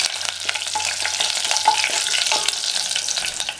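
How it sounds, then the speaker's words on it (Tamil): Chana dal and dried red chillies fry in hot oil for wheat rava upma, a steady crackling sizzle with light stirring scrapes throughout, close and continuous. "இது எல்லாம் நல்லா செவக்க வறுபடட்டும்"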